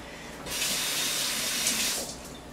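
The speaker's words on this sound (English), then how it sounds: "Give my hands a little rinse." Hands rinsed under a running kitchen tap, a steady close gush of water starting about half a second in and tapering off near the end, with no talking.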